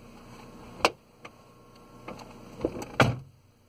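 Several sharp relay clicks from a 2007 Vauxhall Vectra instrument cluster, spaced unevenly and fairly close, with a quiet background between them and no talking.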